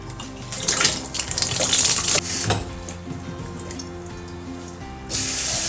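Lima beans are washed under running water in a kitchen, with close splashing and gushing that swells and dips, plus a brief clatter of the vessel near the end.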